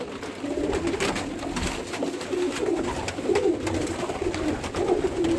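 Pigeons in a rooftop loft coo in soft, continuous rolling calls close by, with faint rustling and background noise and no talk.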